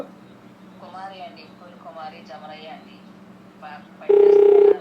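A voice talks, then a loud electronic telephone tone sounds steadily for under a second near the end.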